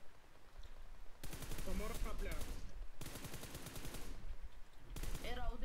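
Bursts of rapid gunfire in PUBG Mobile on the Sanhok map during a squad match, loud dense volleys in two or three clusters with brief gaps, while players talk excitedly over the shots.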